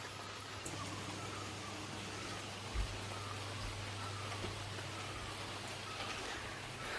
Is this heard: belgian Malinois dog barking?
no